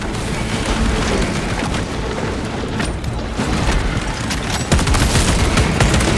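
Sustained rifle gunfire in Space Marine 2, a loud, dense rattle of automatic shots mixed with booming impacts, continuous and close throughout.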